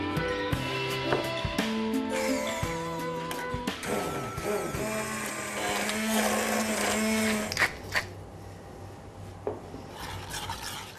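A blender purees a porcini mushroom sauce of stock, cream and butter, a loud whirring grind that shifts pitch as it works, then cuts off into quieter clatter.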